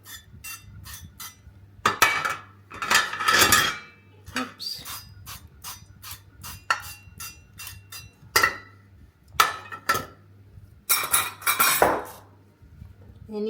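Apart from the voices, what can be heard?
metal loaf pans being handled and sprayed with oil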